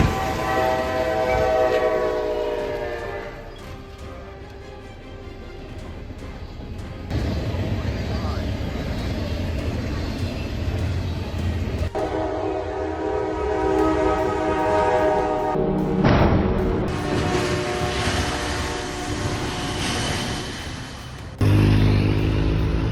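A freight train rolls past, its horn sounding in long tonal blasts over heavy rumbling, with abrupt shifts in sound partway through.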